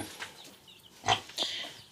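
Pigs on a small farm give a few short grunts and squeals, close and moderately loud, scattered across a quiet background.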